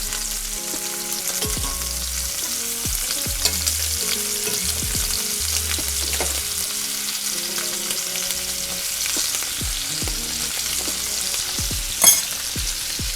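Lamb chops frying in butter in a pan, a steady close sizzle with soft crackles and a few utensil taps, one sharper clink near the end.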